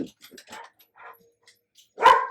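A single sharp dog bark rings out after a stretch of faint, scattered small sounds, with construction noise nearby.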